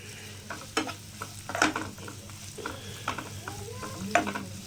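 Onions frying in a pan for a quail pepper fry give a soft continuous sizzle, punctuated by repeated clattering stirs and scrapes of a spoon at close range, and no one speaks.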